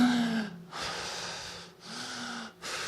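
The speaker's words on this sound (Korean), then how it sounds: "이렇게 이제 숨 쉬는 거를 이제 복식호흡" Slow, deep abdominal breaths drawn in and let out audibly through the nose, with short silent pauses between each breath, close and quiet.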